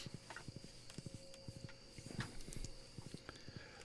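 Horse hooves in the farming game Stardew Valley clip-clopping in a steady walking rhythm, faint and close, with a soft background hum.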